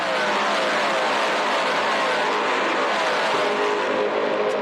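S5000 open-wheel race cars at Tailem Bend Motorsport Park in South Australia, engines screaming at high revs in a steady, dense roar that stays loud and continuous throughout, with no talk over it.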